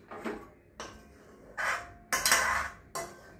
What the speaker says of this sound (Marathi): आता मी हे गॅस बंद करते आणि ह्याच्यात ओतून दाखवते